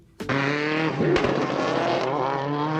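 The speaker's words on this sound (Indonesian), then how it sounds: "mobil di kompetisi biasanya juga akan mengeluarkan suara tembakan seperti ini" Competition car fitted with an anti-lag system: a sharp pop opens a steady, buzzing high-revving engine drone, with another crack about a second later, loud and close.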